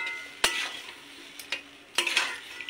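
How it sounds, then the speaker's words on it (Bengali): Soybean curry being sautéed in a pan, with a few distinct scraping stirs of a utensil over a faint sizzle, spaced irregularly and close up. "আরও 1-2 মিনিট মতো আমি কষাবো।"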